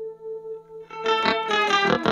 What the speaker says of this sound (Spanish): solamente es la señal de la octava arriba